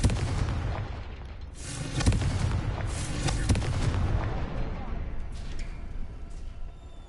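Booming blasts from the Confringo spell in the Hogwarts Legacy video game, a few heavy explosions rolling over a rumbling background, with a player speaking quietly at times.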